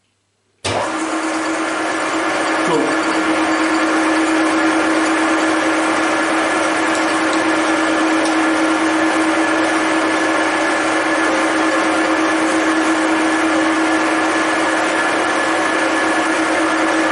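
A Deckel FP1 milling machine takes a 1 mm depth of cut, starting abruptly and then holding a loud, steady mechanical whine and hum with no voices.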